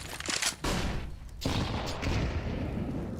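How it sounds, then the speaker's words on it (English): Rifle fire in Counter-Strike on the Inferno map comes as dense, loud bursts of shots layered with distant booms and constant background noise from the match, with no voice. "when you hear a rifle tagging up Simple"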